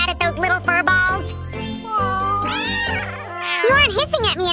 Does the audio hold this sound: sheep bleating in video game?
no